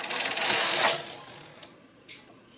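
A knitting machine carriage is pushed back across the needle bed in one fast mechanical whirring pass, loud at first and then trailing off, followed by a faint clack near the end.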